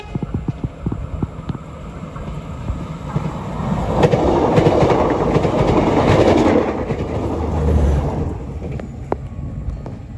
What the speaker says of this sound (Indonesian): Kereta api bandara sudah lewat dan sepertinya berpapasan tepat di tikungan di sebelah sana dengan kereta api Gaya Baru Malam Selatan